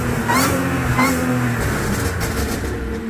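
Supercharged Audi A6 3.0T engine revving nearby in two quick blips with a rising whine, then settling back to a steady low idle.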